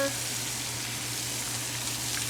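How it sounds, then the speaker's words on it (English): Mushrooms sizzle in a hot cast iron pan, a steady, even hiss of frying with a faint low hum underneath, continuous and close throughout. "We're gonna saute some mushrooms."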